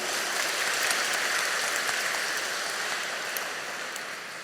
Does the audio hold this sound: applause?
yes